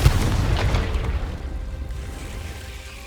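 Confringo fire spell blast in the Hogwarts Legacy video game, a single loud booming explosion right at the start that rolls off into a long fading rumble.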